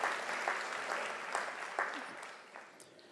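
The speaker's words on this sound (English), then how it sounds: "you can give the parents, family members, sponsors, a really, really warm round of applause" Graduation audience at a University of South Africa autumn ceremony applauding parents, family members and sponsors: broad, steady crowd clapping with a few louder bursts, slowly thinning toward the end.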